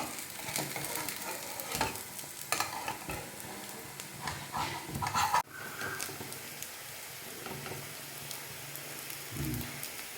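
A breakfast dish cooks on a low flame and is flipped to its other side, giving a soft, steady sizzle with a few utensil scrapes and one sharp clatter midway.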